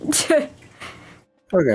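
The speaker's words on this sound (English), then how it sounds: "I coughed" A person gives one sharp, sneeze-like cough close to the microphone, followed by a breathy pause, and then a voice briefly speaks.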